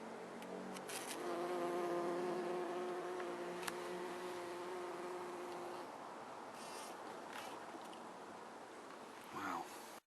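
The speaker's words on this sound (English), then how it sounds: "I just leave them so the bumblebees can enjoy them." Bumblebees buzz around flowers close by, a faint wavering drone that swells for a few seconds and then fades, with soft rustling in a quiet outdoor setting.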